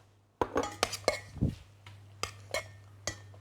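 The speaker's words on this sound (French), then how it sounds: "Et là, maintenant, je vais ajouter la farine." A spoon clinks against a mixing bowl while flour goes into vegetable muffin batter: a string of sharp, close taps and knocks, irregularly spaced, with one duller thud in the middle.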